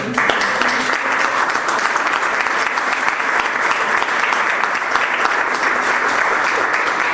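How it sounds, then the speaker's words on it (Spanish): A church congregation claps loudly and continuously for the Lord during a worship service, a steady, dense wash of many hands that holds at full strength throughout. "denle fuerte aplauso al Señor"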